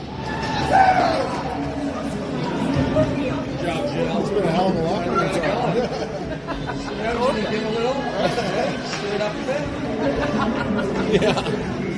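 A hockey arena crowd after a Trail goal in a Smoke Eaters vs. Kamloops game: a sustained, moderately loud roar of cheering and crowd noise, with commentary running over it throughout.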